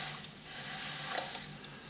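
Coarse salt is poured into a dishwasher, giving a continuous gritty, hissing rush of granules that stays fairly even and close for the whole moment, with no talking.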